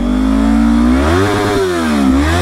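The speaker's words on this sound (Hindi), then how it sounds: "अभी इस बाइक का आप लोगों का साउंड सुनाने वाला हूँ मैं" A motorcycle engine, from a Yamaha R3 or KTM, revs loud and close, its pitch climbing, dipping and rising again in a continuous snarl with no talking.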